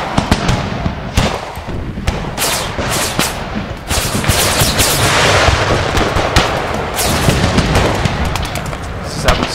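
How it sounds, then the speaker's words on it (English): Musket volleys crackle across a battlefield in an American Civil War mod game, with dense, ragged bursts of loud shots and booming reports that blur into continuous firing. "Okay, they started firing at will a bit."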